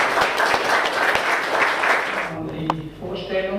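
A lecture audience in a German hall applauds to welcome a speaker, Dr. Betschon, with dense, steady clapping that fades out after about two seconds as the room quiets and a voice begins.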